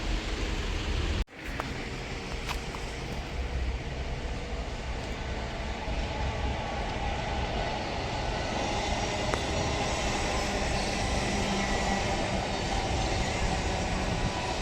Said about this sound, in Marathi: जशी ही ट्रेन तिकडे चालली आहे पनवेलवरून